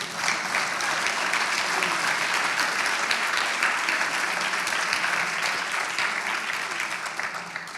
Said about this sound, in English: Come on, give us a round of applause.